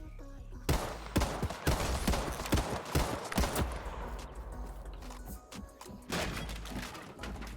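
Bursts of gunfire ring out in the video game Hawked, rapid overlapping shots and loud cracks in clusters, fairly close, with a sustained fusillade throughout.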